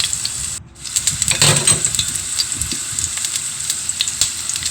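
Garlic sizzling in hot oil in a pan, a steady close crackling hiss that briefly dips before continuing evenly.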